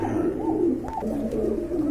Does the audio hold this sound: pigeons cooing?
yes